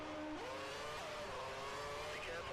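A Formula 1 race car leaving the pit box in F1 2013, its engine whining up through the gears in rising pitch sweeps, loud and continuous with a dense hum of other cars underneath.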